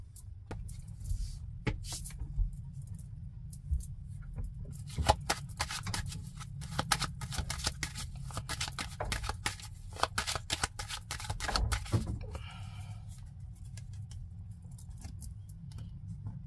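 Tarot cards being shuffled by hand in a quiet room, a steady run of soft riffling and flicking snaps that continues throughout with occasional sharper card slaps.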